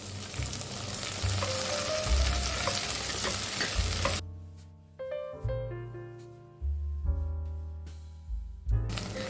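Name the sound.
sautéing onion, green chilies and curry leaves in pan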